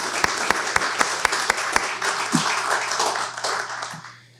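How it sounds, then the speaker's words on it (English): Audience applause at an awards ceremony, opening with a few sharp, evenly spaced claps that merge into a steady round of clapping before tapering off. "Let's give our judges a warm round of applause."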